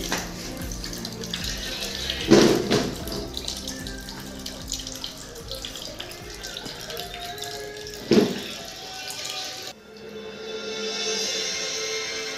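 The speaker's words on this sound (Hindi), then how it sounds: "पानी को अलग कर रहे हैं चावल से" Water pours and splashes steadily as it is drained off cooked rice at an outdoor picnic cooking spot, a continuous rushing flow with a couple of louder sloshing bursts, fairly close, with no talk over it.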